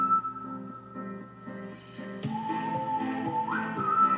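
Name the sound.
whistling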